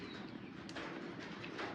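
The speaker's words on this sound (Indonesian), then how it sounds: "Iki manuk dara itu." Pigeon cooing, soft and low against a steady background hiss, with faint bird sounds through the short stretch.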